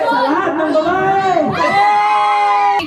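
A crowd of boys at a gender reveal party shouts loudly together, a dense, close cheer of many young voices rising and falling before swelling again into a sustained yell.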